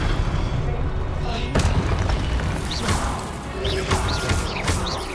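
Repeated magical blast spells boom and crash through a Hogwarts Legacy battle, sharp impacts landing over a dense, noisy backdrop of game combat effects, with a voice talking throughout.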